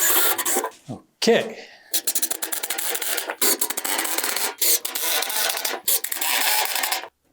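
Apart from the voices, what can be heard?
drilling with a countersink bit into furring strips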